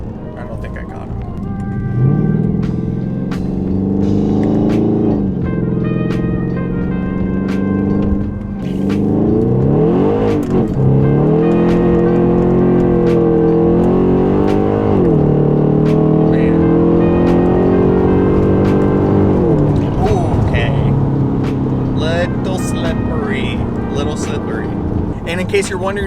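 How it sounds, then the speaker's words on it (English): A Mercedes E550's engine with a raw, unmuffled straight-pipe exhaust revs up and down repeatedly, its rough roar rising and falling, with voices speaking over it. "in case you're wondering for the exhaust, I just chopped it off and welded in a straight pipe"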